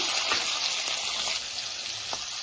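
Curry leaves, onions and green chilies frying in a pan with oil, giving a steady, bright hiss and crackle throughout, close and continuous, with a few faint stirring knocks.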